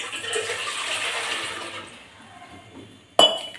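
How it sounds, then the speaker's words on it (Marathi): A potful of water pours into an idli steamer pan on a gas stove, a close splashing stream for about two seconds that tapers off, followed by a sharp metallic clink near the end. "तर यात ओतणार आहे मी 1 तांब्या पाणी"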